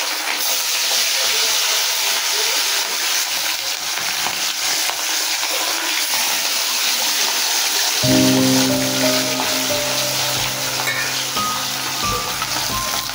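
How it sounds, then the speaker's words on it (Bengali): Hilsa fish sizzles steadily in hot oil for the whole stretch, loud and close, with a rattle of utensil or pan sounds joining partway through. "এক এক করে এই তাহলে মাছগুলো সব ভেজে নিই"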